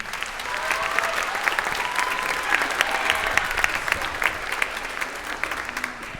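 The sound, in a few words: audience applause at orchestra concert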